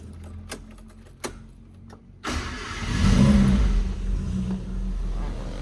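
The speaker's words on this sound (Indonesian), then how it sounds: "Oke, coba kita nyalain mesinnya guys ya." A 1994 Suzuki Katana motorcycle engine cranks and fires up after a couple of faint clicks, then settles into a loud, steady idle close by, with no talking.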